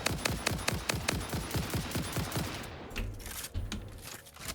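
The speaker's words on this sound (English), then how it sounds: "What happens when I run and shoot?" Rapid automatic gunfire from a gun in the Satisfactory video game, a fast steady stream of close, sharp shots for about three seconds, then a few scattered bursts trailing off, with no talk.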